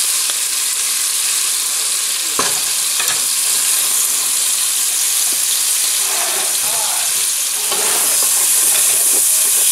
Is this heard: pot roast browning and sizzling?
yes